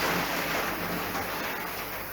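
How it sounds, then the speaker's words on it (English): Steady rain patters against glass, a continuous soft hiss with no breaks, fairly close and even in loudness throughout. "That's the rain you can hear on the enveloped windows."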